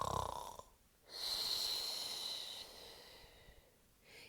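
A voice imitates a bear snoring: a breathy inhaled snort followed by a long, raspy exhale, then a fainter breath, close and soft.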